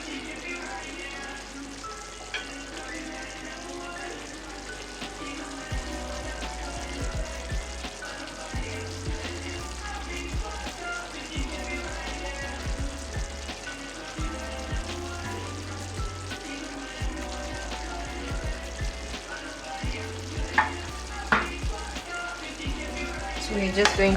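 Dhania is stirred into a beef stew with potatoes and sweet potatoes, bringing a continuous bubbling sizzle with scraping and clinking spoon strokes against the pot, steady and close, with a voice talking briefly.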